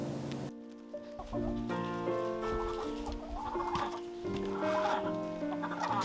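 Backyard chickens on a farm in the Arkansas mountains cluck and crow in a busy overlapping chorus, several birds close by and calling one after another, with no talking.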